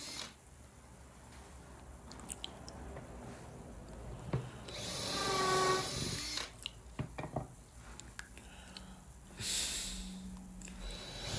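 A power drill boring holes in scrap wood, one loud whining bite into the board mid-way with a backing board underneath, followed by shorter clicks, handling knocks and a second brief run of the tool.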